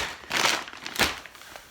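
Plastic bags holding handspun yarn crinkle and rustle close up in two or three brief bursts.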